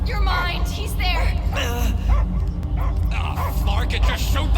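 Dogs bark and yip in Marvel's Guardians of the Galaxy, short repeated calls under loud voices and game sound.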